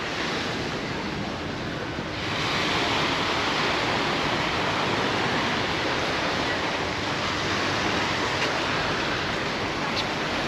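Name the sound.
sea waves on a pebbly beach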